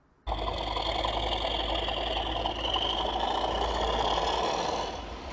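A Hornby model train with a Stay Alive system runs steadily over track work, its small motor giving a close, continuous whirring hum with a faint rhythmic rattle and no break for about five seconds.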